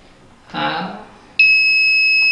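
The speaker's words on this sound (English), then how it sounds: "It gives an indication alarm also in whenever the tank is empty and whenever tank is full" An electronic alarm on an automatic water level controller sounds as the tank fills, a steady high-pitched tone starting abruptly and holding loud after a brief voice.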